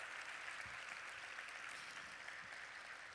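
Very faint, steady applause from a university lecture-series audience for three speakers on affirmative action, a soft, even wash of clapping heard from afar with a few low thumps beneath it.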